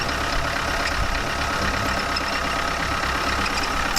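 A camper van engine idling after repairs, running loud and steady with a continuous low rumble and rough knocking texture, with no break throughout.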